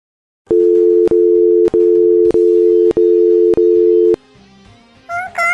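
A telephone call fails to connect, giving a loud, steady tone that repeats in about six even pulses with short gaps, then quiet and a brief sound at the end.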